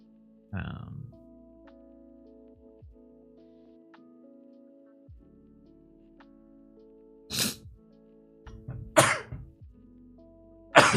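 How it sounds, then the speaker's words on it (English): Several sharp, explosive sneezes, one early and a cluster of three near the end, each abrupt and fairly close over a quiet, humming background. "I can't stop sneezing this morning"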